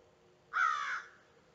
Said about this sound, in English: Oh, those are big crows.